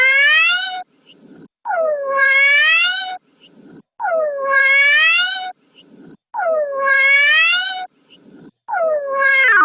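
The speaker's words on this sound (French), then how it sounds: "on va essayer mon miaou à l'envers" A recorded cat meow played in reverse, repeated four times with a fifth starting, each a long tonal wail that swells and ends abruptly, loud and close with short gaps and faint rustles between.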